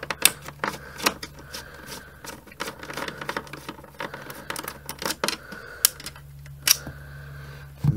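Plastic and machined screws being removed from a vacuum cleaner, heard as sparse, uneven clicks and small knocks close up over a low steady hum, with no talking.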